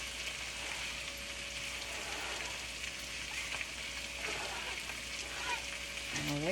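Shredded cabbage cooking in a hot pan, a steady soft sizzle and hiss running throughout at low level, with a faint clatter near the end.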